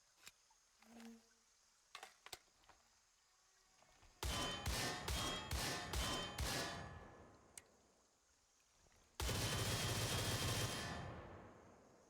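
VZ58 rifle fire in Gray Zone Warfare: a few isolated distant shots, then a rapid burst of loud, sharp automatic rounds, a pause, and a second sustained close-range automatic burst.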